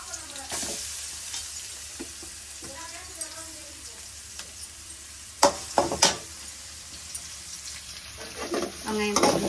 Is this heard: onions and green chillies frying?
yes